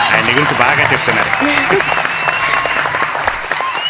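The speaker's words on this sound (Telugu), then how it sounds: "మరి అతని కోసం గట్టిగా చప్పట్లు కొట్టండి." An audience applauds a performer on a comedy show, with loud clapping and a lively crowd filling the space while a voice speaks over the applause.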